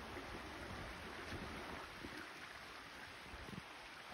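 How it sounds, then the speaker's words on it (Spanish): A river runs over rocky ground with a steady, broad rushing wash. It is faint and distant, mixed with some wind noise. "el ruidito del río"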